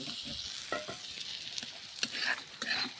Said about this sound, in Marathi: आता आपण यात तेल ओतूया